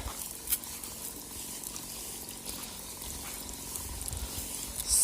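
Fungicide solution poured into a garden sprayer for treating strawberries, a steady, continuous liquid pour running for several seconds at moderate level with faint background noise.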